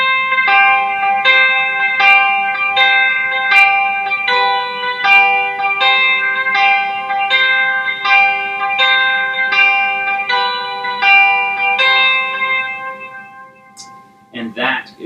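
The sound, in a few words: lead guitar playing the Forever Reign chorus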